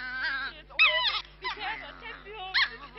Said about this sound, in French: Je peux me pencher pour voir le chien.